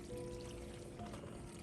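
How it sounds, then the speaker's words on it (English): Thick, hot penne pasta mixture for a vegetarian baked penne pours steadily into a casserole dish, a short continuous sloshing, dribbling pour heard up close with no talking. "without burning myself, pour this in to my casserole dish"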